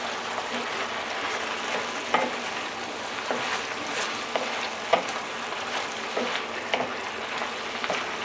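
Worcestershire sauce sizzling as it cooks down in a pan during braised beef chuck preparation, a steady soft frying hiss with occasional small pops, no talking.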